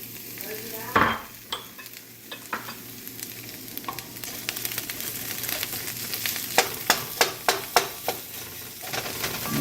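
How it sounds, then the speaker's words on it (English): Onions and shredded ginger sautéing in a skillet: a continuous sizzle with a dull thump near the start, then a run of crisp, evenly spaced spatula taps and scrapes growing busier toward the end. "Break that up a little bit and let that start to saute."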